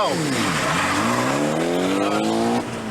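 A 1992 Mitsubishi Galant VR-4 spins out under hard acceleration, its tires squealing loud and continuously with sweeping, wavering pitch over the roaring engine for nearly three seconds before the squeal cuts off.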